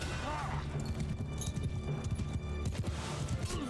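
Cavalry horses galloping across a battlefield in the video game Mount & Blade II: Bannerlord, a dense continuous rumble of hoofbeats with clattering and battle noise, while someone talks over it.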